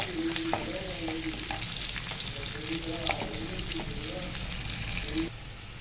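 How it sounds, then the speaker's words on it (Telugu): Onions, mustard seeds and curry leaves sizzle loudly in hot oil while being stirred for an ivy gourd fry, with a dense continuous crackle and intermittent scraping of the spoon, close up and steady. "ఆవాలు వేసుకుందాం ఆవాలు చుట్టుపట్ల అన్నిచ్చి ఎర్రగడ్డ కరాపాకు బాగా కలబెట్టుకుందాం"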